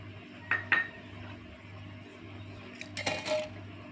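Coconut pieces drop into a steel mixer grinder jar, making a few close clinks and soft thuds in two small clusters over a low steady hum, with no talking.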